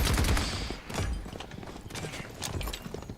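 Rapid gunfire crackles in the video game Paladins, dense bursts of shots and impacts running through a short stretch of gameplay with a player talking over it.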